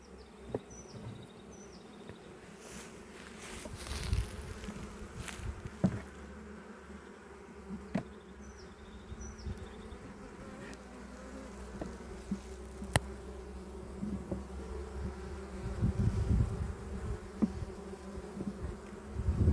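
Honeybees swarm over an opened beehive during a spring inspection, a steady droning buzz filling the clip with occasional clunks and knocks from handling the hive.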